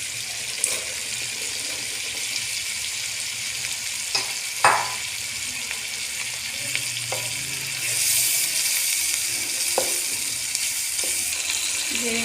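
Potatoes with turmeric and salt frying in a pan, a steady close sizzle throughout with occasional light clinks and stirring, growing slightly louder later.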